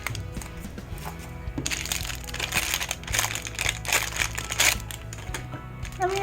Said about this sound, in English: So I'm going to open them up using my handy dandy scissors.